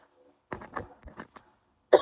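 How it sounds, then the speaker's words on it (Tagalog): A woman coughs several times in a quick, close cluster during a livestream, followed by a sharp loud burst at the end. "Sorry na sa ubo ko."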